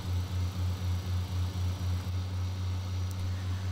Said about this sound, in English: Proper sound for the tractor, I should say.